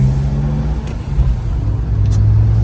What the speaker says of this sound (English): I've been driving it for like a minute now